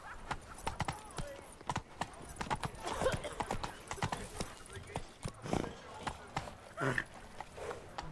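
Horse hooves clip-clop at a brisk gallop in The Witcher 3, riding through Beauclair, a steady rhythmic drumming of hoofbeats close by, with a brief whinny and a voice speaking over it.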